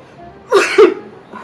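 A young Italian girl gives a single short, close sneeze, a sharp voiced burst followed by a quick second puff, with quiet room tone around it and no talk.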